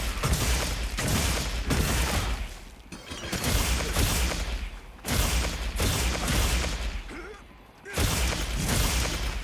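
Repeated booming blasts from a switch axe's dragon-element explosions in Monster Hunter Wilds, dense and loud in rhythmic waves, with little pause between them.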